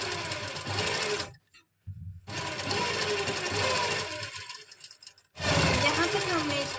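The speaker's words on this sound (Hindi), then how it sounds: "इनको मिलाते हुए हम अपनी लाइनिंग को कुर्ती के फैब्रिक से स्टिच करेंगे" A sewing machine stitches lining to kurti fabric in three close, steady runs of fast whirring and rattling, separated by brief stops.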